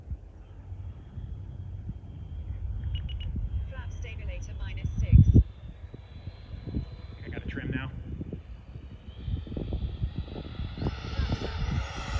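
A Freewing Hornet F-18 RC jet flies overhead with a steady whooshing engine roar that rises and falls as it passes. There is a brief thump midway and wind buffeting on the microphone throughout.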